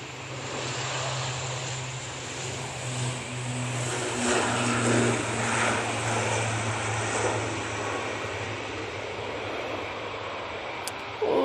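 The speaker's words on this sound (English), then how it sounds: "Logan ATR taking to the skies" A Loganair ATR turboprop takes off at Manchester Airport with a steady low propeller drone and a rising engine rush, moderately distant and fairly quiet.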